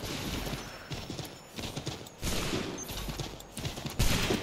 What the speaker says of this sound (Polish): No tutaj akurat koń się przydaje.